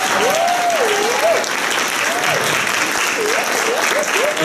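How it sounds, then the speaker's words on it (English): An audience at a speech event gives steady, loud applause from many hands, continuous throughout with voices talking over it. "I'd ask you all to please give him a quick round of applause for leaving us"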